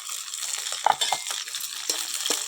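Eggplant frying in a pan with chili, garlic and onion gives a soft, steady sizzle with a few sharp clinks of a utensil stirring against the pan, close and fairly quiet.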